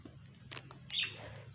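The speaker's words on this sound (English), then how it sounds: "It's a pigeon!" A curious pigeon outside gives a brief, faint chirping call over a low background hum.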